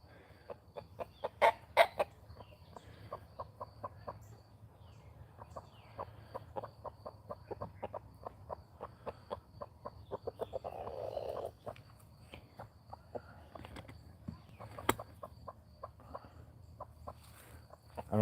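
Chickens on a farm cluck in a quiet, irregular series of short calls, with a few louder clucks and soft scratching steps in the background and no talking.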